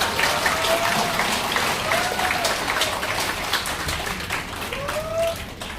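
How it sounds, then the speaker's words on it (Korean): Applause at a Korean public lecture welcoming a lawyer to the podium, a steady broadband patter of clapping with faint voices calling out over it, lasting throughout at moderate level. "큰 박수로 환영해 주시기 바랍니다"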